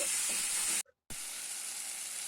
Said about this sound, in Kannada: ಎಲ್ಲವನ್ನು ಚೆನ್ನಾಗಿ ಹುರಿದುಕೊಳ್ಳಿ ಎರಡು ಮೂರು ನಿಮಿಷ ಚೆನ್ನಾಗಿ ಹುರಿದುಕೊಂಡು